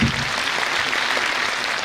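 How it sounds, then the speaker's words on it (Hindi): A crowd at a Brahma Kumaris dedication ceremony breaks into strong, continuous applause, a dense clapping roar that stays steady for a couple of seconds. "जोरदार ताली बजाइए दीदी के लिए।"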